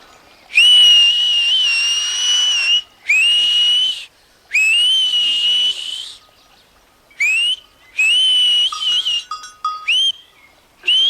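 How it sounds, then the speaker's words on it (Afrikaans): A girl in a cartoon whistles loudly in several long, shrill sustained blasts with short gaps between them, ending in a few shorter, broken whistles. "Ek kan net so goed soos jy fluit, Pieter, hoor net."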